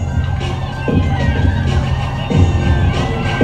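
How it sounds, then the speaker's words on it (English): Crowd cheering and shouting in an arena during a college gymnastics floor routine, a steady loud roar with swelling shouts that rise and fall throughout. "They screaming her on, too."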